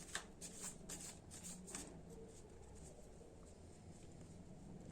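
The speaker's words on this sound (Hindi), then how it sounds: "सबसे पहले मैं यहाँ कार्ड निकाल देती हूँ" Tarot cards being drawn and shuffled by hand, producing quiet, rapid papery flutters in short bursts early on, then soft riffling under low background noise.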